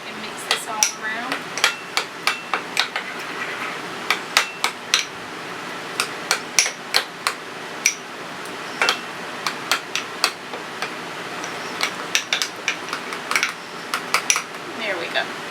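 A spoon clinks steadily against a bowl while stirring butter, minced garlic and Italian seasoning together, with crisp, irregular taps repeating close up throughout.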